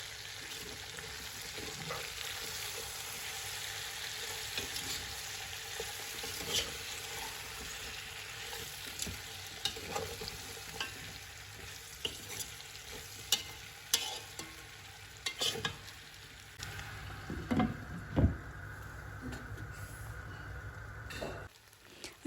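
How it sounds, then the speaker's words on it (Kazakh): Onions frying in oil in a pan that also holds fried mushrooms, a steady moderate sizzle with occasional stirring clatter and scraping, continuous and fairly close, no talking. "пиязымыз сарғайып қуырылғанша жақсылап қуыратын боламыз."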